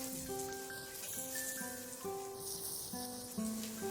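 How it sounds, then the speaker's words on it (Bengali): Butter melting in a hot grill pan and sizzling with a soft, steady crackle, faint and close, set over a bed of tonal background music. "বাটারটাকে একটু চারিদিকে ব্রাশ করে দেব আর মেল্ট করে দেব।"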